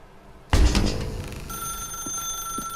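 Telephone ringing in the video game The Stanley Parable, a sudden loud bell ring that bursts in and then sustains with a ringing tone, close and alone without talk.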